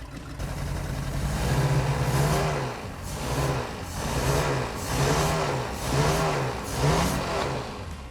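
An old, long-neglected big boat's engine runs close by with a low, throbbing rumble, rising and falling in several repeated surges as it is revved.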